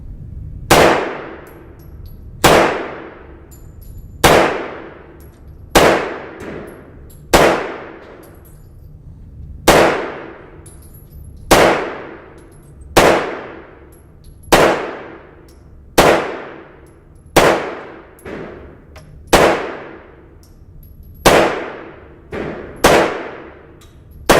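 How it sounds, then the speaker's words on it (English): A mostly stock gun fired at a shooting range: about sixteen loud, sharp shots at a steady pace of one every second and a half or so, each ringing briefly, with no talk. "I've been wanting to shoot, so let's go."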